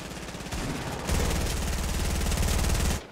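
Rapid automatic gunfire in a competitive video game, a dense continuous burst lasting about three seconds that grows louder partway through, near and alone before cutting off abruptly.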